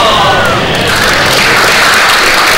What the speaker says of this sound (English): Big round of applause to Fudge.